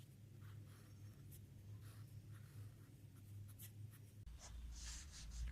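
A pen scratches steadily across paper while a circuit diagram for a DTH receiver card's sound section is drawn, a faint, continuous scraping with small strokes and pauses, close and quiet, without talk.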